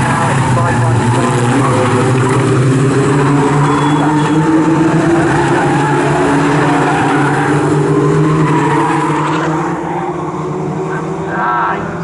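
Locost race cars roaring through Bramble and Nelson at Snetterton, a loud blend of several engines droning and shifting pitch as the pack passes, continuous for the whole stretch and easing slightly toward the end.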